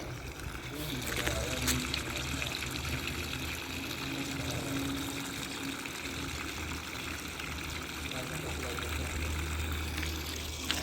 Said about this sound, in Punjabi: ਪਾਣੀ ਲੱਗ ਰਿਹਾ।